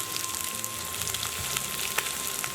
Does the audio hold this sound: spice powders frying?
yes